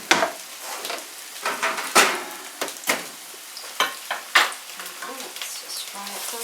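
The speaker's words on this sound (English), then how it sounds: "Fry up those potatoes." Potatoes frying in oil in a pan give a steady sizzle broken by repeated scraping, stirring strokes at an uneven rhythm, fairly close and without talk.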